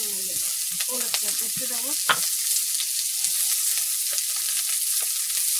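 Garlic sizzling and frying in hot oil in a home kitchen, a steady bright crackle with stirring clatter as someone talks over it.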